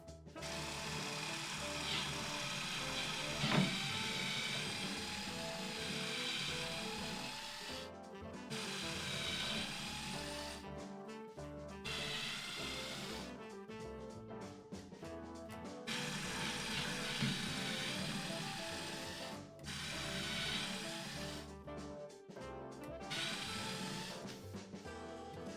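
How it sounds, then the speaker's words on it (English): A power drill pre-drills four screw holes in wood while a washing machine riser is built, running in close, loud whirring bursts separated by brief pauses, with no talking. "pre-drill all four at once"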